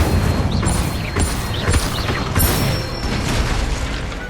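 Incendio fire spell cast in Hogwarts Legacy, a series of bursting whooshes and crackling impacts repeating every second or so over a busy game soundscape with faint chimes.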